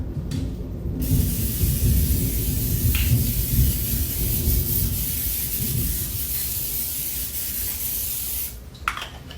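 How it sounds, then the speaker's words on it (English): Thunder from a storm outside a home kitchen rolls on as a long, low, loud rumble mixed with steady hissing noise that lasts several seconds before easing off. "it's thundering here, guys."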